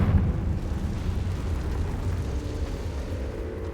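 Confringo fire spell explosion in Hogwarts Legacy, a sustained loud, rumbling blast that fills the whole clip with dense low-end roar and crackle, no voices.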